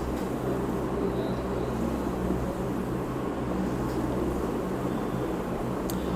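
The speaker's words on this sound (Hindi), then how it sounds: "पंखा चल रहा है।" An electric ceiling fan runs steadily indoors, giving a continuous low hum with an airy hiss underneath and no talking.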